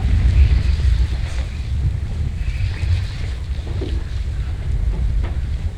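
Strong wind of about 20-25 knots buffeting a fishing boat in a harbour, a steady loud rumbling roar across the microphone with water washing beneath, no talk.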